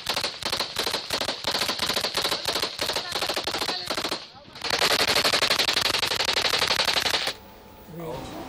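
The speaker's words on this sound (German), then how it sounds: "Die Navy SEALs schießen aus allen Rohren." Rapid automatic gunfire from Navy SEALs in a battle alongside Peshmerga fighters in northern Iraq, loud and close, with sustained bursts for about seven seconds before it cuts to quieter background.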